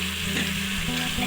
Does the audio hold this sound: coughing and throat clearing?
no